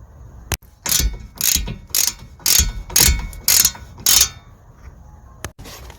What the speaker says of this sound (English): Just gonna secure the track rod end nut.